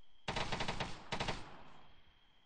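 Automatic gunfire in the Arma 3 military shooter: two rapid bursts of close, loud shots, a longer one followed by a shorter one, with a steady high electronic tone running under them and a brief tail as the shots fade.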